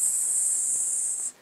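A voice imitates a hiss, like a snake's: one steady, loud, close airy hiss held for about a second and a quarter before stopping abruptly, with nothing else around it.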